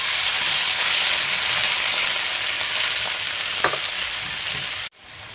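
Diced corn, peas, carrot and chopped shiitake mushroom sizzle loudly in a hot wok, a dense steady hiss with a few scraping stirs, up close and alone until it cuts off abruptly near the end.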